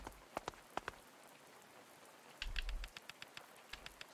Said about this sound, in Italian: La pioggia si sta facendo più intensa.